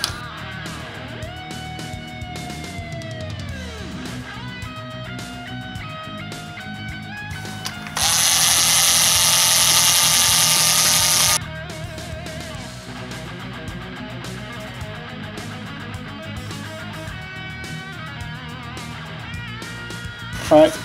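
A power tool whirs steadily for a few seconds while removing clutch cover bolts from a Suzuki Katana motorcycle, set among background music with tonal lines before and after.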